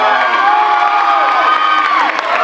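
A school audience at a high school Black History Program cheers and shouts for the young singer of the National Negro Anthem, with dense, loud crowd noise and rising whoops sustained throughout.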